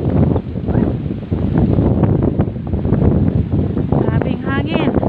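Strong gusty wind outdoors buffets the microphone in heavy, continuous roaring bursts, loud and close throughout, while people talk over it.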